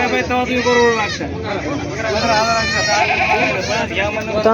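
Goats bleat repeatedly at a busy goat market in Vasmat, their calls close and loud, mixed with someone talking and crowd babble throughout.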